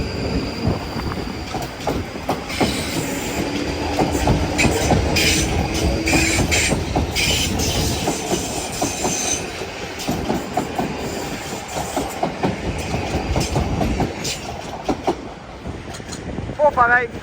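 South Western Railway class 444 electric units running through Clapham Junction, a loud close rumble with clattering wheels and brief squeals, steady for the whole stretch and overlaid with faint talk.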